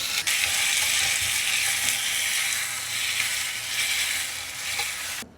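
Fennel seeds, small shallots and curry leaves crackle in hot oil for a tempering. The frying hiss is loud, close and steady for the whole stretch, with no voices.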